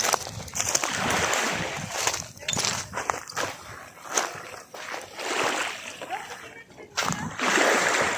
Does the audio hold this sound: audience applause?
no